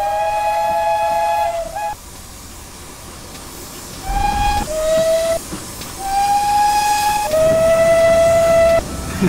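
Steam locomotive whistle blasts in the Train Simulator 2016 game, sounding several clear tonal hoots of varying length with short gaps between them over a background hiss of steam and rolling train noise, loud and close.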